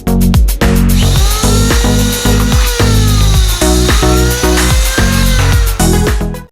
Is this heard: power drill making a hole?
yes